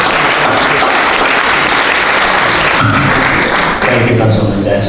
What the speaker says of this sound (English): Please help me give him a round of applause.